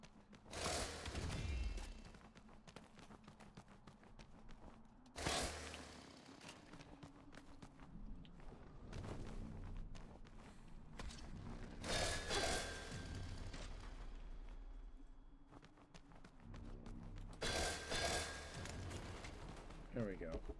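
Gunfire in the video game MOTORSLICE comes as several loud bursts of shots and impacts at intervals, with game noise and footsteps in between, and a person speaks over parts of it.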